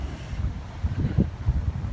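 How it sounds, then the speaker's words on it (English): Cold wind gusts across a mountain summit, a steady low rumble and buffeting against the microphone with no voices. "Oh, it is cold and windy."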